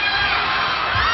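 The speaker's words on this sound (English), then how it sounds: "The chance of MVP from the crowd of Ateneo." Ateneo supporters in a packed arena during a UAAP women's volleyball match against La Salle, a dense, steady roar of many voices chanting together, loud and continuous throughout.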